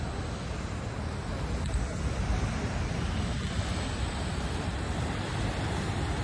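Ocean surf on the Cascais coast in Portugal, a steady broadband wash of waves with wind buffeting the microphone, continuous and fairly close throughout with no talking.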